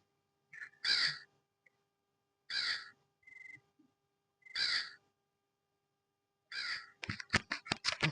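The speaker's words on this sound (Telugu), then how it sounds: "కాకి, అది కాకి." A crow caws four separate times, loud and close, with even pauses between calls, then a burst of rapid clicking knocks at the end, with no talking.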